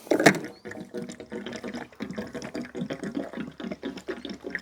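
Fuel additive being poured from a bottle into the fuel tank of an old Proton 1.5 SE, a faint, uneven gurgling liquid stream with small splashes, heard close up.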